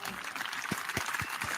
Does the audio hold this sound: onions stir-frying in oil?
no